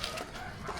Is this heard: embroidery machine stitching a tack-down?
no